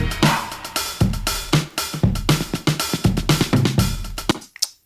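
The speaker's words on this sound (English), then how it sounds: "I put a drum loop on the track that sounds like this." Drum loop playing back in the Reaper DAW, a steady rhythmic pattern of punchy kicks and bright snare and hat hits, loud and up close with no talking, stopping abruptly near the end.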